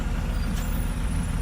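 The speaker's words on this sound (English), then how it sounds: "I'm on the bus on my way to the center of town" A city bus rumbles through Montevideo, Uruguay, heard from inside, with a steady low engine drone and a brief hiss of air brakes partway through.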